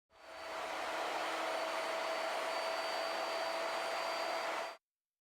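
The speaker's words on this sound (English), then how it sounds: "To cut the mortise, a series of overlapping holes is plunged. Then route it side to side to clean it out." A router in a Leigh mortise and tenon jig cuts a mortise, giving a steady, even whine that starts up, holds for a few seconds and then stops abruptly.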